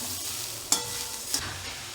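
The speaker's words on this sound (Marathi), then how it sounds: "तूप गरम झालंय, त्यात नारळाचा चव घालू। आपल्याला नारळाचा चव 1 सेकंद परतून घ्यायचा आहे आणि आता लगेच आपण त्यात साखर घालू।" Grated coconut and sugar are stirred in hot ghee for coconut barfi: a soft steady sizzle under two sharp spoon scrapes against the pan, close by, with no voices.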